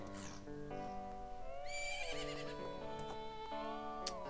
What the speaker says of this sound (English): You could probably hear the horse.